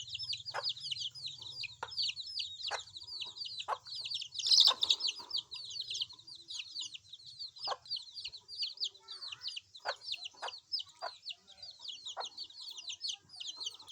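F1 jungle fowl chickens cluck and call nearby in a steady run of short, repeated notes, with higher chirps and bird calls layered above and a faint low hum underneath.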